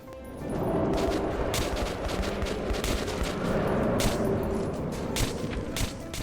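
Continuous dense gunfire in a fight in the video game Metro 2033, with rapid overlapping shots and bursts forming a steady loud barrage throughout.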